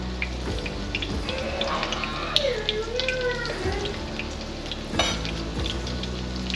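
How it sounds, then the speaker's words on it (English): Shrimp frying in a pan with a constant sizzle, punctuated by faint clinks and stirring knocks, with a short whistling or squeaky tone partway through. "Season, and we're gonna add in the shrimp."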